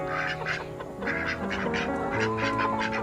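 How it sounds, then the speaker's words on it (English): Domestic fowl in a backyard coop where a rooster is kept, with repeated loud honking, quacking calls close by over a steady background, several calls in a row and no talking. "Thought maybe you guys want to see Tressa the rooster."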